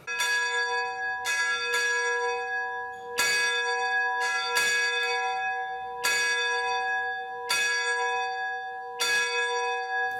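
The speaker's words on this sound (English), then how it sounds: "Willie, could you show me exactly how the bell operates?" The bell of steam locomotive 2152 rings repeatedly with clear, resonant metallic strikes at an uneven pace, each tone ringing on and overlapping the next, close and steady.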